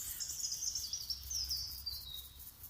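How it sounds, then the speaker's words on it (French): High, thin bird chirps repeat in a steady, quiet stream over a low background hum, fairly distant and soft. "on écoute les petits oiseaux"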